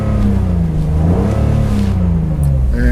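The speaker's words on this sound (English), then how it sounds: "Let's give it a couple of revs." A 2001 BMW Z3 3.0L coupe at a Japanese car auction revs its engine, the note rising and falling in a couple of loud, close revs over a steady idle.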